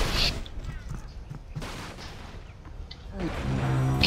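Gunfire crackles in the video game Panzar, with sharp bursts at the start and again near the end over a rumbling battlefield background.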